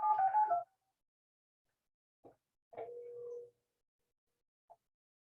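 Phone keypad tones sound in short separate beeps, a brief burst of quick presses, then a few isolated tones spaced over several seconds against near silence.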